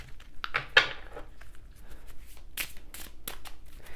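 Tarot cards, a Mystic Mondays deck, shuffled by hand in a quiet room: soft riffling bursts and crisp slaps recur in uneven clusters, close and fairly faint.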